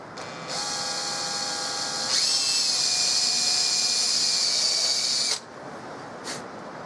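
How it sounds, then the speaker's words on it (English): A power drill drills into not-quite-cured super glue on a rifle stock, whining steadily nearby, stepping up to a higher pitch partway through, then spins down and stops, leaving quiet room noise. "Drilling super glue that's not quite cured"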